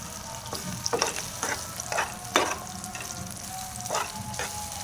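Omelette eggs frying in a pan, stirred with a utensil: a steady low sizzle under repeated scraping strokes and soft clinks, close and fairly quiet, with no voices.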